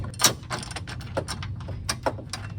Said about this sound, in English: Start hand screwing them in there